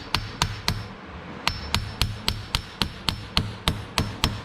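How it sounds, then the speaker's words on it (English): Steady, sharp metallic hammer taps on the end of a front CV axle of a Suzuki King Quad ATV, about fifteen evenly spaced strikes, close and clear with no talking. "I'm gonna tap it with the hammer on the end."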